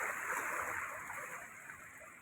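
The Kaveri river rushes past in Erode with water released from Mettur dam, a steady broadband roar of fast-flowing water, close and continuous with no voices.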